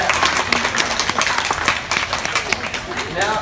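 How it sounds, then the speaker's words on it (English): Audience applause at a dolphin show at Coffs Harbour's Dolphin Marine Conservation park: steady crowd clapping throughout, with a voice speaking over it. "Let's give her one more big round of applause as she does head off home there."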